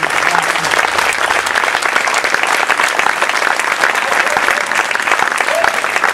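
An audience applauds a town band at the San Bartolomeo concert of 2020, a loud, dense and continuous burst of many hands clapping close by, with a few voices faintly mixed in.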